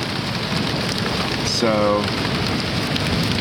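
Steady rain patters on a beach cabin roof on the Lost Coast, a dense, even hiss that fills the whole clip, with a brief spoken word partway through.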